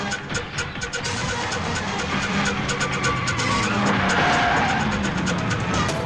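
A car speeds and skids through a chase in the Hindi-dubbed action film Aaru, with a steady loud engine roar, repeated tire squeals and rapid clattering bursts running the full length, no voices heard.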